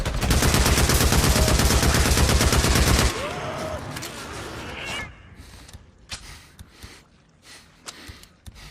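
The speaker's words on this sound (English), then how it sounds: "I'll keep shooting then." Rapid gunfire while shooting in the video game Days Gone, a dense burst of automatic fire lasting about three seconds, then stopping and leaving faint scattered game sounds and breathing.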